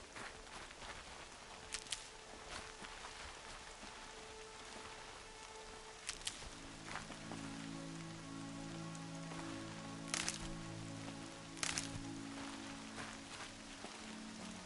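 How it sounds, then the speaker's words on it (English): Steady rain in the video game Horizon Zero Dawn patters across a surface with occasional louder drips and clicks, under a low tonal hum throughout, no voices. "More rain."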